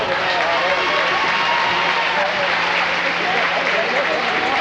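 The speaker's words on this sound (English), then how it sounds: "Please give him a round of applause." Dense, steady applause from a crowd in a high school gymnasium at a basketball game between Edmonson County and Barren County, a continuous wash of clapping with no pauses, heard close and loud throughout.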